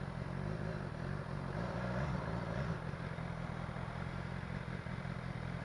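A BMW S1000XR motorcycle being ridden on the road, its engine a steady, loud mid-range drone with constant rumble throughout, no pauses.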